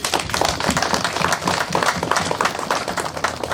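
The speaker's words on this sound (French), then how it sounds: "je voudrais qu'on les applaudisse aussi" An audience applauds security forces, dense clapping filling the whole stretch at steady loudness with no voices over it.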